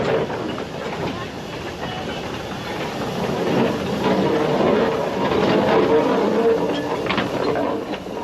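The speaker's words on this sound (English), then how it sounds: "using steam engines to haul traditional 1950s carriages" A steam train on the Lakeside and Haverthwaite Railway hauling traditional 1950s carriages, a steady rolling rumble and hiss with faint rhythmic clatter, continuous and fairly close.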